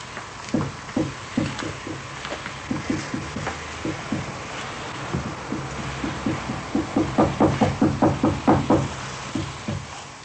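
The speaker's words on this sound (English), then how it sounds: "There, I heard and tape-recorded curious sounds, knocking sounds" A tape recording made inside a house linked to the Enfield poltergeist case catches a long run of sharp knocks, some spaced apart and others coming in quick clusters. The knocks are loud and dry and grow denser toward the end, with no talk over them.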